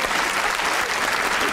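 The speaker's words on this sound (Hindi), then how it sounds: "तालियां!" A studio audience at a comedy show meeting the cast of Aladdin claps in a steady, full burst of applause, close and continuous throughout.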